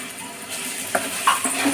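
Biryani masala is stirred and sautéed in a pan, giving a soft sizzle with a few light scraping clicks of the spoon against the metal over the short span.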